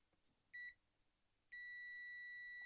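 A continuity tester gives two steady electronic beeps while a switch is checked during a ZX Harlequin 128k build: a short beep, then a long sustained tone after a pause, over a quiet background.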